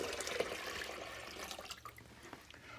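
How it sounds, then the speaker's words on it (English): Water running from a tap into a bucket holding a tea bag, a steady rushing splash heard alone and fairly faint throughout. "Then you fill it up with a gallon of water."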